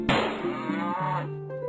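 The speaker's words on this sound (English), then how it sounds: "You're a weaponized cow." A cow in the Poultry Romance game Silly Chicken lets out one loud, drawn-out moo lasting nearly two seconds, close and alone.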